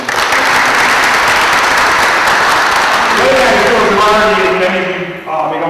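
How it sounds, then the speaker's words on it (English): An audience at a school State of the School address breaks into sustained, loud applause that fills the whole stretch, with a voice starting to speak over it near the end. "So he deserves a round of applause."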